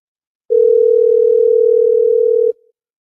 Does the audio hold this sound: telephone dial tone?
yes